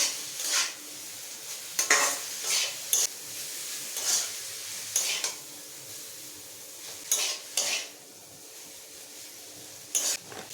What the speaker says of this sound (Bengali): 1 চিমটি গরম মশলার গুঁড়ো, একটা ম্যাগি মশলা, নাড়তে থাকবো।